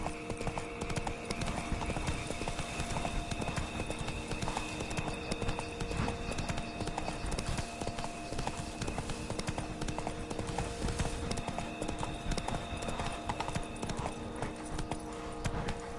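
A horse gallops in The Witcher 3 video game, its hooves beating a fast, steady clip-clop that carries loud and close for the whole run over a bed of game music.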